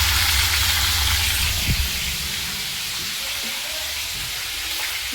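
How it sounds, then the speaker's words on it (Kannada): Chopped onion frying in hot oil in a nonstick kadai, with a loud steady sizzle and hiss that holds throughout, plus an occasional soft clink from a spoon. "ಈಗ ಚೆನ್ನಾಗಿ ಸ್ವಲ್ಪ ಫ್ರೈ ಮಾಡ್ಕೋಬೇಕು."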